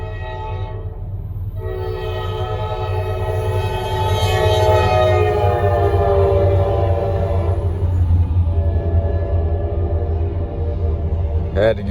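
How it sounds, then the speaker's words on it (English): A Norfolk Southern freight train rolls past close by with a loud, sustained multi-tone horn blast over a heavy low rumble of moving cars, the horn fading toward the end. "First train of the day, 24X."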